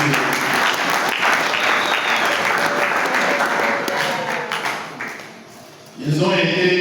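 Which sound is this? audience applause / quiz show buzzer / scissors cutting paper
audience applause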